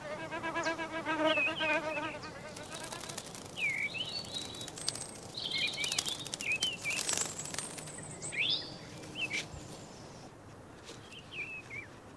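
A cuckoo bee buzzing in a meadow, a thin whining hum rising and falling close by, with chirping birds in the background.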